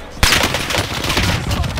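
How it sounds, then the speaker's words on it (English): Rapid bursts of video game gunfire from a Glock pistol in Call of Duty Warzone Rebirth, loud and close, starting abruptly and continuing as a dense volley with no talking. "Blue Glock, I shoot you."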